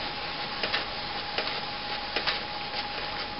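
A Canon MP610 inkjet printer fitted with a continuous ink supply system prints, giving a steady mechanical whir with a faint tone and soft periodic clicks and ticks from the carriage, close and even throughout.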